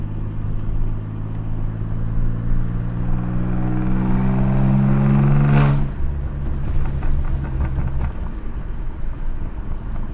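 A C5 Audi Allroad idles with a loud, steady low engine and exhaust drone that swells briefly near the middle before settling back, with some wind buffeting on the microphone.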